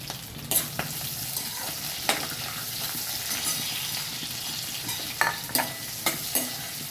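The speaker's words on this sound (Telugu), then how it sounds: "ఇప్పుడు ఆనియన్ వేసుకోవాలి" Sliced onion frying in a pan for tomato rice, a steady close sizzle with scattered sharp clicks of a spoon stirring against the pan, no voices.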